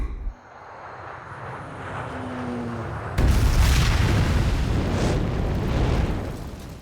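A deep, rumbling bomb blast bursts in suddenly and rolls on loudly for several seconds before easing slightly, preceded by a quieter, building rumble, in an action film.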